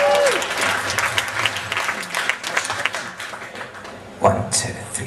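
Audience applause for a singer at a live performance, dense steady clapping with crowd noise and a few voices mixed in, holding for about five seconds with a brief louder swell near the end.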